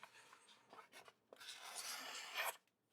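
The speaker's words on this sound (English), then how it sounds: "Here's the tried and true paper cut test that everybody loves." A Leatherman multitool fitted with a custom MagnaCut blade slices through a sheet of paper, giving a faint, close scratchy rasp that builds into one longer swish near the end.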